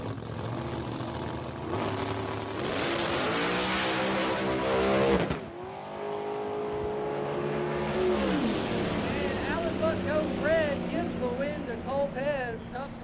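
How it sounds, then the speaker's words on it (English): Race car engines roar loudly on a track, with a sharp pop as the blower blows off a car partway through, then revving and engine whine carry on while a voice talks. "He probably would have got the win as Cole Pesz pops the blower off that car."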